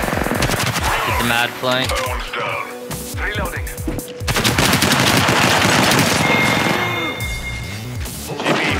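Automatic weapon fire in the video game Apex Legends, with loud bursts and rapid rattling shots that crack repeatedly throughout, mixed with impacts and game effects while players talk excitedly over the fight.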